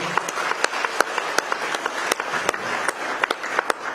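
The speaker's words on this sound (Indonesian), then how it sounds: "Tepuk tangan untuk Mbak Yeni." Audience applause for Yenny Wahid at a political event: scattered, sharp handclaps from a modest crowd, fairly close and uneven, continuing steadily for several seconds.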